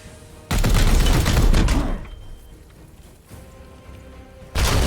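Gunfire booms in the video game Warhammer 40K: Chaos Gate - Daemonhunters, a heavy sustained blast that rumbles for over a second, then fades before another loud burst begins.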